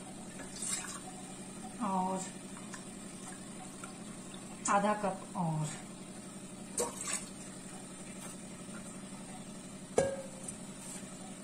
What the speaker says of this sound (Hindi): ये मैंने गैस पे पतीला चढ़ा लिया इसमें पानी डाल देंगे